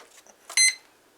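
A single short electronic beep from the motor controller of a Flyzone Calypso glider, close and clear against a quiet background.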